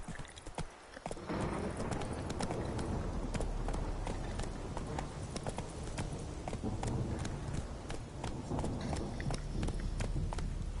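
A horse gallops in The Witcher 3 on PS5, with rapid, rhythmic hoofbeats drumming steadily and loudly throughout after a brief quieter opening.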